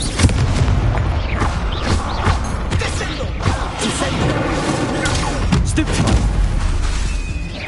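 Incendio fire spell cast in Hogwarts Legacy during a dueling fight, heard as a loud dense roar of booms, crashes and thuds layered over continuous game audio and speech.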